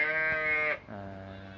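A Gissar-breed lamb, one of twins, bleats in a long, wavering cry, then follows straight away with a lower, steadier bleat. Close and clear, with no talking.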